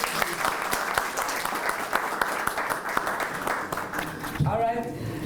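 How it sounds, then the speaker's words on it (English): A media briefing audience gives a round of applause, dense clapping filling the room for several seconds before it thins and a voice begins speaking near the end. "Can we give him a round of applause?"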